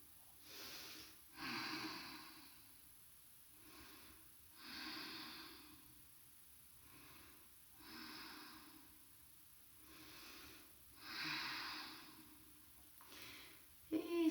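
Slow, soft breaths drawn in and out through the nose during a yoga pose, about five quiet cycles in an even rhythm, close and alone.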